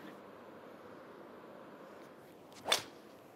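A golf club strikes a ball on a tee shot: after a quiet outdoor stretch, one sharp, short whooshing smack comes near the end, clear and close against faint background.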